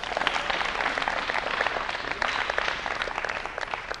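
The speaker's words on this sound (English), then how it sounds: "So give yourself another round of applause for that." Audience applause at a talk, a steady dense wash of clapping holding at an even level for the full stretch with no voices on top.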